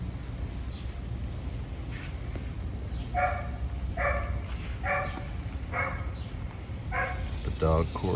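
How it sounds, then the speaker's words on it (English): Several dogs bark together in a loose chorus, a run of evenly spaced barks at moderate distance over a steady background hum, with a quicker yelping burst near the end. "Dog chorus."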